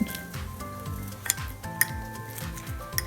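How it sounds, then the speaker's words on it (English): A fork mashes and whisks pancake batter in a bowl, making quick rhythmic scraping strokes with several sharp clinks against the side, close and moderately loud, with no talk. "And now I'm going to mash it up with a fork. I just start whisking it"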